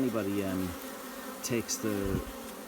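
Honeybees in a hive in swarm mode buzz in short bursts, a low droning hum that rises and fades in separate surges with brief quieter gaps between them.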